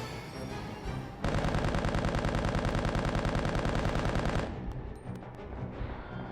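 A newly found gun fires in a boss fight in the video game Resident Evil 1.5, a loud, rapid, evenly paced automatic stream lasting about three seconds before cutting off into quieter ambience.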